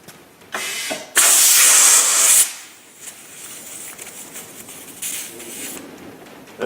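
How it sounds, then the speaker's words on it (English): Air from a car tire valve with its core pulled rushes out in a loud, steady hiss for about a second, then drops to softer intermittent hissing as the valve core goes back in on a tire changing machine. "I'm going to pop this off and then screw the valve core back in here before all the air escapes"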